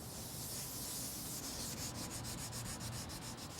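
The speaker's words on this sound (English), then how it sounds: "Sanding, varnishing. Sanding, varnishing." Close, steady rubbing of sandpaper on wood, a continuous rasp that turns into quick rhythmic back-and-forth strokes in its second half, with no voices.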